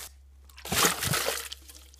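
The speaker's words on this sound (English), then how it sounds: "then I have water. I'm just gonna put it into that." Water poured from one container into another outdoors at a camp build, a short steady splashing pour lasting about a second that trails off into faint trickles.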